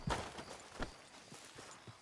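Hoofbeats of a horse walking in Red Dead Redemption 2, a few soft, evenly spaced clip-clop steps, quiet and close, with no talking.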